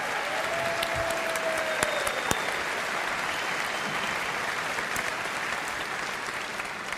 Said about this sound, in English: Can you just give her a round of applause